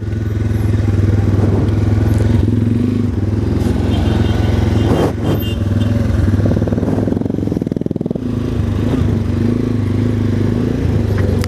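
A Bajaj Dominator 250 motorcycle engine runs close and loud, a steady, rumbling hum with a few rattling bumps and a brief dip near the end, heard alone without talk.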